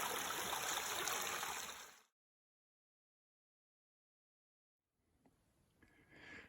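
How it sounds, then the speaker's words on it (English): A small mountain stream on the Appalachian Trail in Georgia, beside a water source, steady close rushing and trickling for two seconds, then silence before faint outdoor ambience returns. "Love that sound, stream sound."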